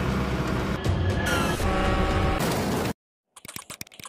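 Cars driving around in the Land of Bloxs video game, a loud, continuous engine drone with shifting tones that cuts off abruptly into silence, followed by a few quick clicks.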